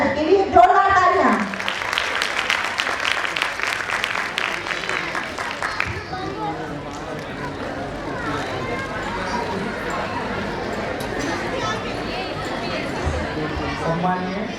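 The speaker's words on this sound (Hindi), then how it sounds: "जोरदार तालियों से स्वागत कीजिए" Applause from an audience at a school annual function, dense clapping loud in the first six seconds, then fading into a steady crowd murmur and chatter for the rest.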